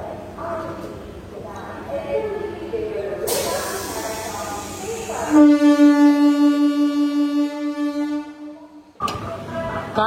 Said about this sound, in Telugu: కాకినాడ టౌన్ నుండి కూడా మన ట్రైన్ అయితే స్టార్ట్ అయిపోయింది